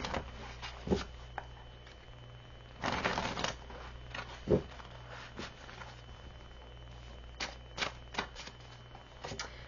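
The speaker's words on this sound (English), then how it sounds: "Let's give the cards a good shuffle." Tarot cards are shuffled in several quick riffling bursts, crisp and close, with quiet pauses in between.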